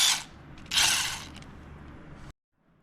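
A ratchet wrench backs out small 3/16 bolts from a transmission housing during a clutch-saver install, two bursts of rapid clicking up close, then a quieter stretch of mechanical ratcheting before it stops.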